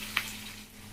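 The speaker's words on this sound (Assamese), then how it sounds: "এতিয়া ভালকৈ ভাজি ল'ম পিঁয়াজ দি লগত।" Onions frying in a pan, a soft steady sizzle with a brief louder crackle near the start, low and close.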